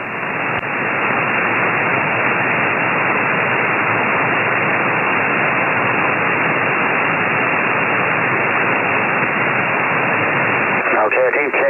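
Dense, loud band-limited static hiss on an amateur radio repeater during thunderstorms, unbroken for several seconds and ending with a brief crackle.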